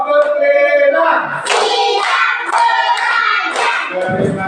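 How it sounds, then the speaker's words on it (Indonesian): Children in a classroom clap their hands together, a dense burst of applause that carries steadily through the whole moment, with a few voices mixed in. "Terima kasih, tepuk tangan dulu."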